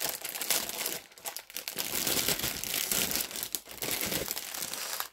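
Plastic packaging from a diamond painting kit crinkles and crackles steadily, loud and close, with brief pauses as it is opened, without talking.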